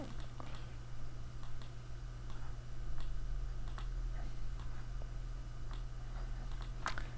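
Computer keyboard keys tapped while entering a formula into an Excel spreadsheet, scattered sharp clicks in irregular bursts over a steady low hum, close and moderately loud, with no talking.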